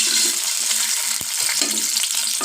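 Eggs fry in ghee in a pot over a raised flame, a loud, close crackling sizzle with a sharp single tap of a utensil midway.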